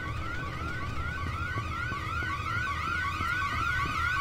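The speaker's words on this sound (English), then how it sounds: "I'm getting farther away from the alarm." Alarm in the INFRA video game wails in a rapid repeating rising sweep, a steady siren-like pulse that continues loudly throughout with no voices.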